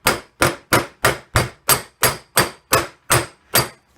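About a dozen evenly spaced, sharp hammer taps drive a wheel bearing part into its seat, each strike loud and close with a quick decay, no voices.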